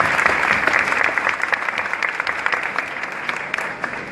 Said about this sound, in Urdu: اپنے لیے تالیاں بجائیں آپ اتنی توجہ سے